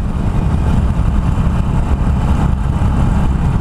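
A Harley-Davidson Iron 883 motorcycle engine runs hard and loud with a dense, steady low roar, held at high revs without clear shifts and with no talking.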